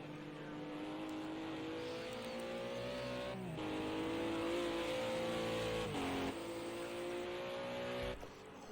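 GT4 race cars power out of the final corner at Donington, engines revving hard through gear changes with rising pitch and short lifts, steady and fairly distant.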